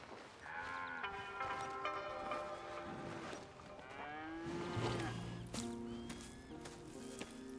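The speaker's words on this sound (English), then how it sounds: "Here's the cows." Cattle on a video game ranch in the Red Dead Redemption 2 epilogue, with several overlapping drawn-out animal calls rising and falling among a busy mix of background game sound.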